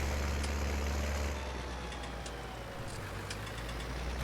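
A tractor with big rear tires idles in the Farming Simulator 19 video game, a steady, low, continuous engine drone heard alone without talk.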